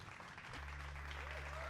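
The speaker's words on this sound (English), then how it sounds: "Why are you applauding that?" Audience applause at a staged show, a faint, steady wash of clapping with a low electrical hum joining in partway through.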